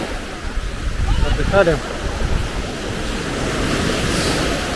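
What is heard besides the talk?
waves on a black-sand beach at Ureki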